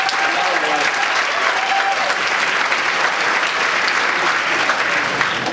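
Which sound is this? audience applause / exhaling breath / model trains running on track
audience applause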